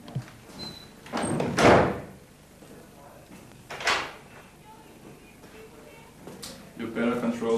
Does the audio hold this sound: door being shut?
yes